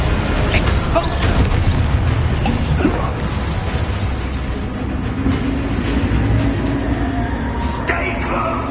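Spell blasts from Expulso and other combat magic in the Hogwarts Legacy video game, loud booming bursts layered over constant battle noise and rumble, with a voice shouting incantations across the busy mix.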